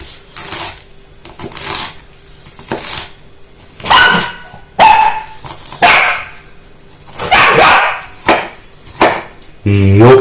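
A dog barks in a home kitchen while onions are being prepared for a beef, pea and fresh tomato stew, giving several loud, close, irregular barks and yips, some in quick bursts.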